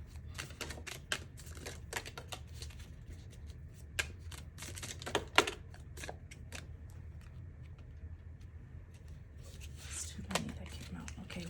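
Tarot cards riffle and slap in quick irregular bursts as they are shuffled, close and crisp, over a steady low hum with soft talk in the background.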